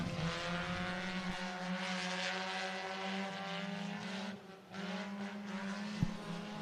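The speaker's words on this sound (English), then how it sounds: "Lancaster works in a little bit of contact as they work their way through 3 and 4" Race cars roar around the oval at Cottage Grove Speedway in Oregon, a steady, distant-sounding engine drone sustained throughout with a brief dip and a sharp knock near the end.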